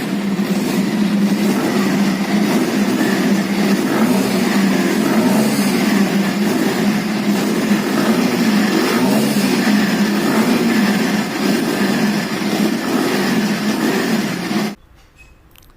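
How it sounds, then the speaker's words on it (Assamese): A Bajaj Pulsar double disc motorcycle idles and revs close by, its exhaust giving a continuous, loud, throaty drone that holds steady for about fifteen seconds before cutting off abruptly. "আহক আমি এক্সজষ্ট চাউণ্ডটো শুনি চাওঁ"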